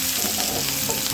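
Drumstick pieces go into a pan of onions that have been frying, and the mix is stirred, giving a steady close sizzle with soft scraping and a brief louder clatter at the end.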